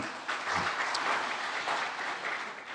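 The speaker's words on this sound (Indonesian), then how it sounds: "tepuk tangan semuanya" A crowd at a PDI Perjuangan party event claps steadily in a dense, even wash of applause that stays moderately loud throughout, with no voices over it.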